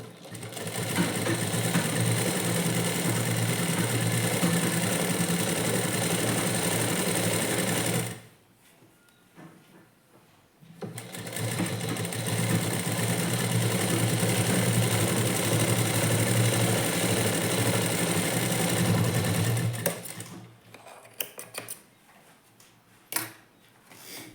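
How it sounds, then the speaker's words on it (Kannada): A sewing machine runs steadily while stitching the lining of a blouse, a close, continuous whirring hum in two long runs separated by a brief pause, with no talking. "ನಾವು ಲೈನಿಂಗ್ ಮೇಲೇ ಇನ್ನೊಂದು ಹೊಲಿಗೆನ ಹಾಕೋಬೇಕಾಗುತ್ತೆ"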